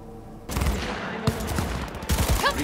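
The Skippy smart gun in a video game opens up half a second in, delivering a dense run of rapid shots with a sharp crack partway through, then a second burst near the end.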